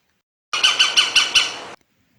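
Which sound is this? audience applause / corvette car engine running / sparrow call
sparrow call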